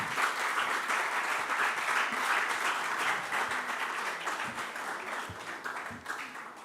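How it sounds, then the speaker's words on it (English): A quiz competition audience applauds a contestant as he leaves the stage, a broad continuous clapping that holds steady for several seconds before gradually thinning and fading toward the end. "Let's clap for him as he leaves the stage"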